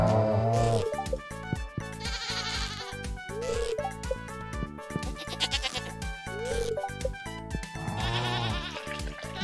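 Goat bleating in the farming game Stardew Valley, with several short wavering bleats at intervals, set against busy, rhythmic game music.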